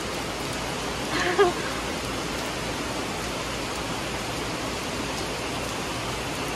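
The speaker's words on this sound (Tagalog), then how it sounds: "Rain." Steady countryside rain falls as a continuous broad hiss, even and close, with a brief faint bump early on and no talk.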